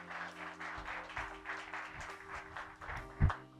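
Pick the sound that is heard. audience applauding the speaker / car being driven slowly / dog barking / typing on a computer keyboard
audience applauding the speaker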